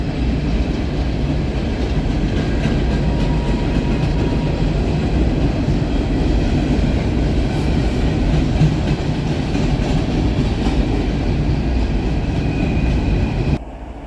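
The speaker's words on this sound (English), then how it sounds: "it was a coal train" A long coal train of black hopper cars rumbles steadily past up close, its wheels clicking rhythmically over the rail joints. The sound stays loud and constant for the whole stretch and cuts off abruptly at the end.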